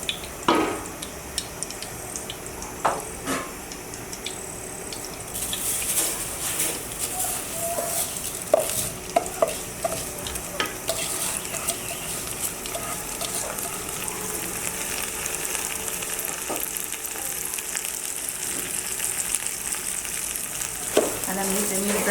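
Polao rice being fried and stirred in a pot for chicken tehari, a continuous soft sizzle broken by frequent scraping and clattering stirring strokes, close up.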